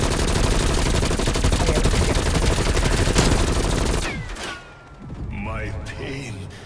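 Sustained heavy gunfire in Call of Duty Black Ops Cold War, dense rapid overlapping shots for about four seconds that stop abruptly, followed by quieter rumbling and a voice.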